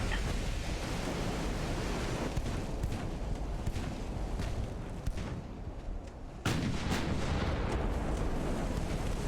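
Naval guns on battleships fire in the game Ultimate Admiral: Dreadnoughts, with a dense, rumbling barrage of booms under a steady roar of sea and wind, and a sudden louder blast breaking in near the end.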